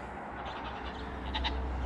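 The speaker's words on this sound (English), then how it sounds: "Well, the goats sure are excited." Goats bleating excitedly at feeding time on a farm, a couple of short wavering bleats over a low outdoor hum, moderately close.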